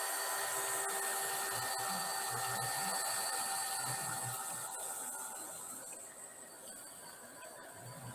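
A hair dryer blows steadily over mica shimmer paint on a primitive art piece, a close, continuous whooshing hiss that holds for several seconds and eases slightly toward the end.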